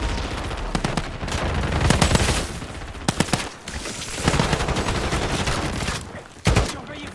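Dense bursts of automatic gunfire and rapid shots overlap in the Call of Duty ghoul mode, with near and far volleys and brief pauses between them.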